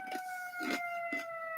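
A wailing siren in Chicago with steady high tones rises and falls through short pulses, heard briefly at moderate distance.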